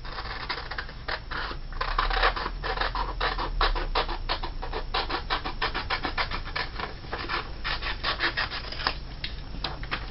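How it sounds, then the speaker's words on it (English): Scissors snip through folded paper, trimming the excess rectangle off a triangle for a 3D snowflake; a steady run of close, dry rubbing and cutting strokes with no talk. "And I'm just going to cut off this rectangular area right here, the excess."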